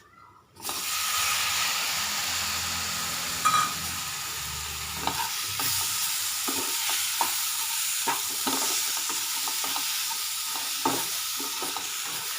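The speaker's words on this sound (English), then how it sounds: "Let it fry until the tomato kind of not completely kind of very soft" Tomatoes frying in a pan for chana masala: a steady, bright sizzle with hissing steam after they hit the hot oil, broken by occasional stirring scrapes and clicks.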